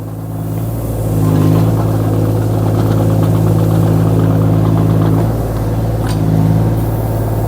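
A Kobelco 1.2-ton mini excavator driving, its engine a loud, close, steady diesel drone that swells in two broad surges with a faint clank toward the end.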